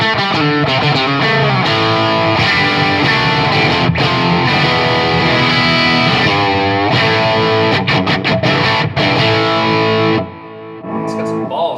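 A distorted electric guitar plays loud and close through channel 2 of an amp, with delay and reverb in the effects loop. Sustained chords and riffs ring continuously, then drop to a quieter tail near the end.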